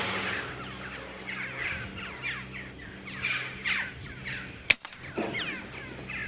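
Rooks and other corvids caw and squawk excitedly around a cattle shed, with repeated harsh calls overlapping in a noisy flock and one sharp crack cutting through partway.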